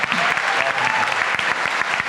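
A pitch competition audience breaks into brief applause, a dense burst of clapping from a moderate crowd lasting about two seconds, with no voices over it.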